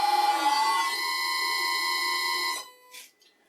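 A vintage Karger lathe motor driven by a VFD at 60 hertz gives a loud, steady high-pitched whine with stacked tonal harmonics, then cuts off abruptly and leaves a brief faint noise behind.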